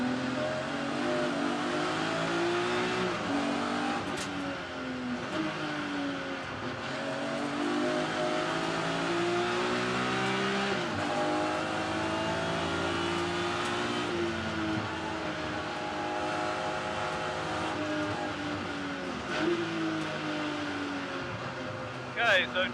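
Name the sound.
BMW race cars racing at Brands Hatch Indy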